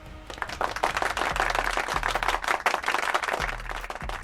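Applause from a basketball crowd, dense and steady, with a low rhythmic thumping of music running underneath throughout.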